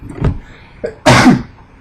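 A person sneezes once, close and loud, with a short wind-up of breathy sounds before the sharp burst.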